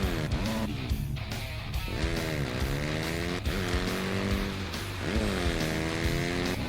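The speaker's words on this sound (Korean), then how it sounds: "오토바이의 주행" Motorcycle engine from the off-road racing game MX vs. ATV Reflex, revving and shifting continuously with rising and falling pitch sweeps as the bike accelerates and drifts, loud and steady throughout with no talk.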